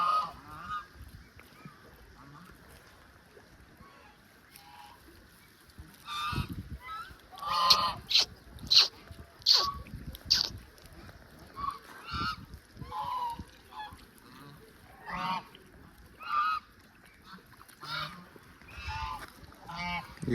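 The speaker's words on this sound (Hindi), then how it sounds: "बत्तखें हैं।" Ducks honk and call at Nakki Lake in Mount Abu, a scattered series of nasal, goose-like honks of varying loudness over quiet outdoor ambience, some calls bunched together and others isolated.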